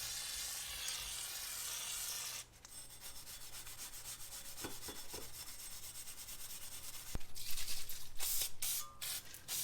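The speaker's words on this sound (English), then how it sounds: "definitely have to clean the surface with brake clean" Brake cleaner being sprayed onto a brake hub surface during front rotor work on a VW MK5 GTI: a faint hiss at first, then a break, then rubbing, scraping and bursts of louder spraying near the end.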